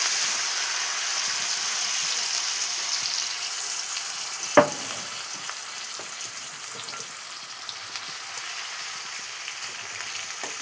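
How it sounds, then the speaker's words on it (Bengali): Sliced potato chips deep-fry in hot oil, a steady close sizzle and bubbling throughout, with one sharp clatter of a utensil near the middle and faint scraping stirs afterward. "ভালো করে ভাজছে"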